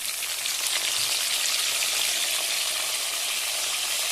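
Whole cumin and dried chili spit and crackle in hot oil as a loud, dense, continuous sizzle, close and unbroken, with no talk over it.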